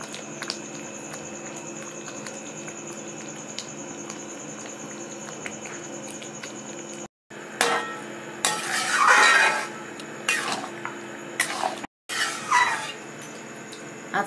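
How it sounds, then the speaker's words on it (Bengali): Paneer is stirred into a boiling butter masala gravy in a pan, with a steady bubbling simmer followed by bursts of spoon scraping and wet stirring, close and without speech. "এবার আমি পনিরগুলো দিয়ে দিচ্ছি।"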